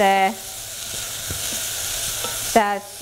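Vegetables sizzle steadily in a hot pan, a continuous hiss with occasional stirring scrapes, between two brief tonal beeps at the start and end.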